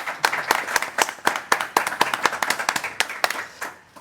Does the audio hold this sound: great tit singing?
no